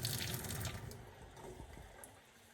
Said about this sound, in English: If I press this up, press that across, hot water.